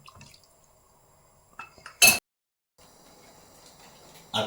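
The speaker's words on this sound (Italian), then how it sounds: "Acqua bolle, sale l'ho messo, giù la chitarrina" Egg pasta chitarrina dropped into a pot of boiling salted water: a sudden, loud splashing clatter stands alone, followed by a soft, steady bubbling and a second brief burst at the end.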